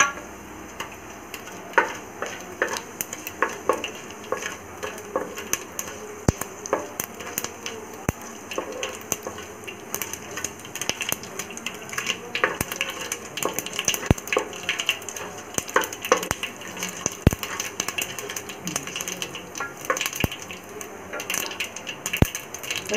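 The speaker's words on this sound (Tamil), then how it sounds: "எண்ணெய் காஞ்சோடனே கடுகு, சீரகம், ரெண்டு பட்டை எடுத்து வச்சுருக்கோம் இல்லையா" Mustard seeds, cumin and two pieces of cinnamon sizzle in hot oil in a home kitchen, sharp crackles and pops scattered irregularly over a low steady frying hiss, close and moderately loud.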